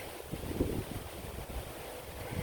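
Gusty outdoor wind roars across the microphone beside a busy street, a steady broadband rush with a few stronger buffets, close and fairly loud with no voices.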